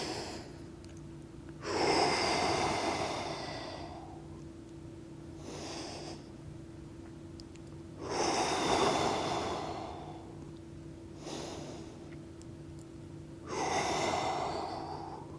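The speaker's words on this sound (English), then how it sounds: "we're focusing on those nice, deep breaths" Slow, deep breaths during a core-focused yoga routine: three loud, drawn-out exhales through the nose, roughly six seconds apart, with quieter inhales between them, close up and with no talking.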